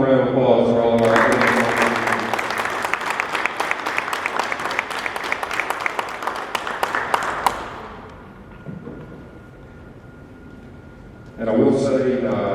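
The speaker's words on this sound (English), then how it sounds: "let's give one more round of applause for all of our" Audience applause honoring a women's volleyball team of regional champions, a dense burst of clapping lasting several seconds before dying away, followed by quiet room tone and then a voice speaking.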